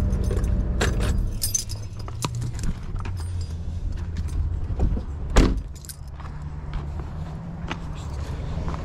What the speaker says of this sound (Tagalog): Tanggalin na natin yung susi mga boss.